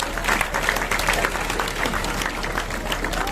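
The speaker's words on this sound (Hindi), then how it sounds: "जोरदार तालियां इस बार बच्ची के लिए।" A school crowd at an Eid-e-Milad prize ceremony in Bhusawal claps for a girl who took first place, lively, loud applause with distinct individual hand claps popping out of the dense, steady patter.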